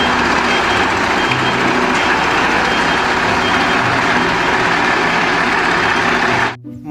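Toy cement mixer truck giving off a loud, steady whirring rumble with repeated reversing beeps, running alone until it cuts off abruptly near the end.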